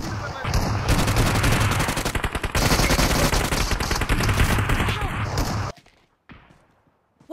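Rapid gunfire in a tournament shooter video game: dense, loud bursts of automatic fire pour out almost continuously, then cut off abruptly to near silence with a few faint trailing sounds.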